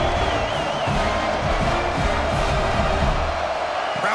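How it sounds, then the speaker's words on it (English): A big college football stadium crowd roars on fourth down in a Mississippi State versus Oregon game, a dense continuous wall of cheering and yelling throughout. "Crowd trying to help out here on fourth down"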